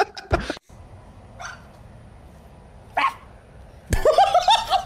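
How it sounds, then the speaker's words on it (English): Dog barking in short separate bursts, a sharp yelp near the start, a brief bark around the middle, then a louder cluster of barks toward the end, fairly close by with no talking. "The dog did, and then he barked back at it."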